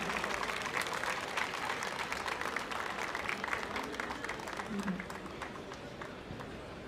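A reception crowd applauds the welcome of President Ersin Tatar of Northern Cyprus at an anniversary event, with sustained clapping that slowly fades while a voice speaks over it.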